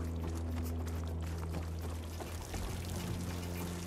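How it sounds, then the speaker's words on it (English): Water dripping and pouring in a cave area of the video game Horizon Forbidden West, a steady splashing wash of liquid over a low ambient hum, moderately loud and continuous with no speech. "Water dripping."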